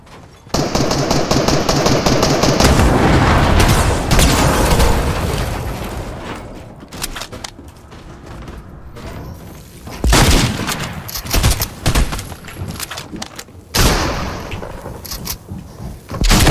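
Heavy, booming shotgun blasts in a first-person video game fire repeatedly, close and very loud, with rumbling tails and brief quieter gaps between volleys. No speech is heard.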